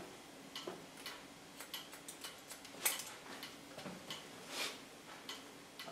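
A clock ticking steadily in a quiet hair salon while a stylist cuts and curls hair, the ticks faint and regular with small handling noises in between.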